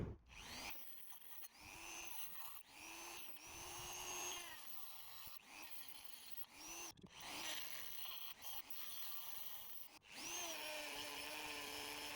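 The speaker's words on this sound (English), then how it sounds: "So what we've been doing is drilling that material away" A power drill whines steadily, its pitch rising and dipping as it drills out a Vauxhall Corsa D anti-roll bar bush, with brief pauses between bursts of drilling.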